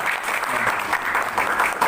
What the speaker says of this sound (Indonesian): Tepuk tangan saudara-saudara.